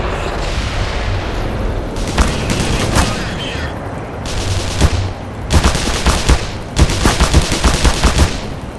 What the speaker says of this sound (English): he's shooting right through the metal